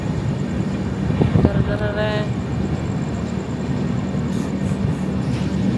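Steady rumbling of a train running on rails, with a brief squeal and clatter of wheels partway through, continuous and close.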